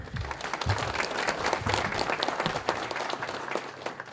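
Audience applause at an ecology awards ceremony, dense continuous clapping from a crowd, fairly loud and sustained throughout with no voices over it.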